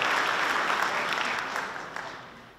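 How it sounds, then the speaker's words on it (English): Audience applause at a veterans' organization membership seminar, a thick wash of clapping that starts strong and gradually fades over a couple of seconds. "Please give these folks a great round of applause for all the work they've done all year long."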